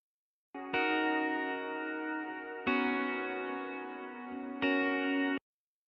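Three sustained, muffled electric guitar chords, low-pass filtered down to 3K and drenched in a 100% wet four-second reverb, each ringing out with a long washy tail, dark and soft with the highs rolled off.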